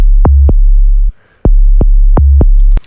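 A loud, deep Serum synth bass for tech house pulses in a steady rhythm with sidechain off, each note opening with a sharp click, with one brief gap between notes.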